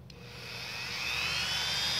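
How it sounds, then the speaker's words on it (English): A Dremel rotary tool fitted with a round sanding bit, used on wooden shoemold window trim, spins up into a thin, high, steadily rising whine that grows louder and holds, with no talking. "Here's a Dremel tool with just a round sanding bit"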